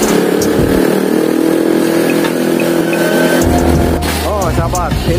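A motorcycle carries a rider through a busy village street toward a torch parade, its engine loud and close, droning steadily under rushing road and wind noise, with other traffic and brief squeaks near the end.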